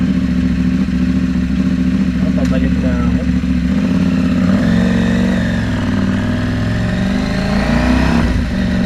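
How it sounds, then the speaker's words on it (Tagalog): A loud KTM 790 Duke motorcycle engine revs up and down through a rumbling exhaust, while someone speaks briefly over the noise. "sobrang ingay na tambuso"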